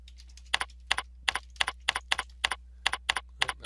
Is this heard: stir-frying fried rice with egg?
no